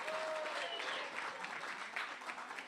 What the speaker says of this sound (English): Keep that applause going for all the artists tonight on the stage